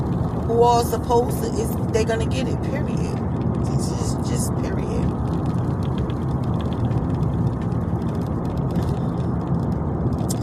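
Road noise fills the cabin of a moving car, a steady low rumble beneath continuous talking from a man.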